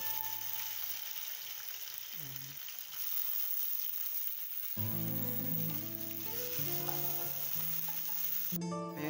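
Onion and tomato frying in a pan for a homemade green bean adobo soup, a constant sizzle with stirring throughout and faint tonal music underneath.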